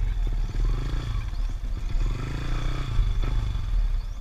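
A Sniper 150 motorcycle with a modified engine runs nearby with a loud, steady, low rumbling throb, rising slightly in a few places.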